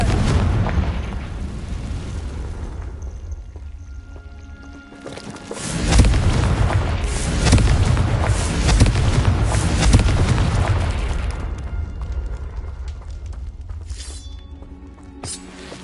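A fire spell explosion in Hogwarts Legacy bursts into a loud booming blast with a roaring fiery rumble that swells, holds for several seconds, then slowly dies away under a steady background of game ambience.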